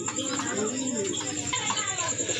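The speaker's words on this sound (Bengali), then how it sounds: "এক জোড়া শাটিন কবুতর" A pair of satin pigeons coo in soft, rolling, repeated calls nearby. Faint background noise runs under them.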